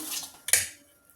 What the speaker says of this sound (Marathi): तर आता गुळ चांगला आपल्याला फेटून घ्यायचा आहे हे तुपामध्ये